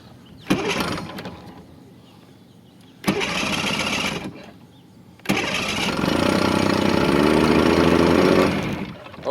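An outboard boat motor out of the water cranks in short bursts, coughing briefly twice, then catches and settles into a steady, buzzy idle nearby.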